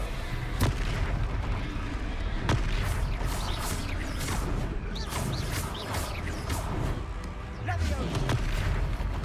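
Repeated Confringo fire spell explosions in the Hogwarts Legacy video game, sharp booming blasts every second or two over busy game noise, with a voice shouting spell names throughout.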